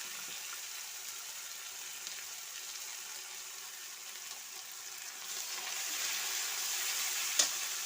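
A ground ginger and cumin spice paste fries in a pan for a country chicken dish, a soft, steady sizzle heard close but faint, with one small clink near the end.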